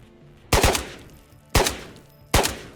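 Three heavy, sharp gunshots from an AK rifle in the video game Ghosts of Tabor, each a loud close crack with a ringing tail, spaced about a second apart.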